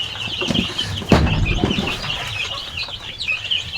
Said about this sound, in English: guys, these are our chicks.